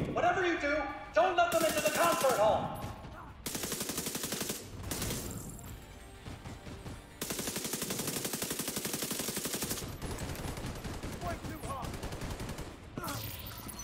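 Machine gun fire in a video game, with rapid bursts of shots that start and stop in several long volleys and sharp gaps between them, loud and close, mixed with other game effects.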